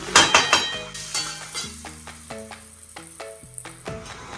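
Sabudana (tapioca pearls) cooks in a covered pan with a soft sizzle. The sizzle is strongest at the start and then fades under gentle background music with steady melodic notes.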